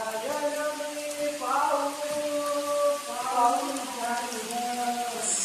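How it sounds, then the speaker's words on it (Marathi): Heavy rain pours at the main gate of Sudhagad hill fort, a steady hiss filling the air while a voice-like tonal sound runs over it throughout. "महादरवाजातून बाहेर निघताना लगेच आपल्याला जोराचा पाऊस आलेला आहे"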